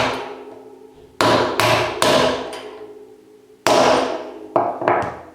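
A hammer drives a pin punch against a rear wheel bearing to knock it out, with the wheel resting on a wooden block: six or seven sharp, loud metallic blows in two irregular bursts, each ringing and fading before the next, with no talking.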